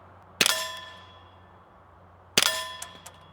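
Two sharp metallic clangs about two seconds apart as suppressed .30-caliber rifle rounds hit a steel target, each ringing out with a bright, fading tone, separated by near silence.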